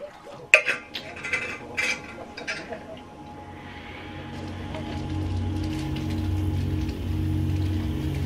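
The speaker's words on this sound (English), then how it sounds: "it's starting to rain now" Rain begins falling at a wild camp on a hiking trail, with a few sharp clatters of gear early on before a steady, building patter of drops on surfaces.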